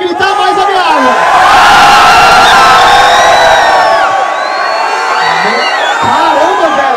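Loud crowd at a Brazilian freestyle rap battle semifinal in Barueri, São Paulo, shouting, whooping and cheering continuously for about seven seconds, a dense roar of many voices with higher individual yells rising above it.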